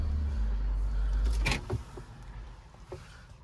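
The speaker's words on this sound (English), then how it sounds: "I'm going to show you the slide and tilt roof operation" An electric slide-and-tilt sunroof on a 2015 Audi Q7 3.0 TDI runs inside the cabin as a low steady motor hum, followed by a couple of soft clunks and clicks as the panel stops.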